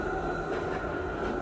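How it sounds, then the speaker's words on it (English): A city tram rolling past outside, a steady heavy rumble of wheels on rails with a faint metallic hum, consistent and moderately loud throughout, no speech. "And there's the tram again."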